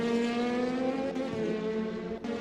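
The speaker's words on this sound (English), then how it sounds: "it is great to hear these cars spitting away" DTM race car engines in the game Assetto Corsa, a steady high-pitched racing engine whine with a couple of sharp crackling pops as the cars pass, no voices.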